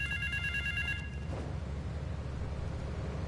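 A telephone rings in the video game Grand Theft Auto III, with a steady electronic trill for about a second before it stops, set over a low rumbling game background.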